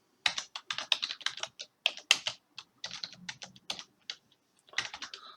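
Fast, uneven typing on a computer keyboard while working in Microsoft Word, a close, crisp run of key clicks in short bursts with brief pauses, no voices.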